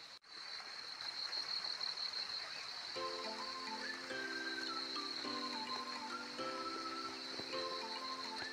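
Steady rain falling in the mountains, a constant soft hiss of water with no break, joined after a few seconds by a gentle melodic tune playing over it.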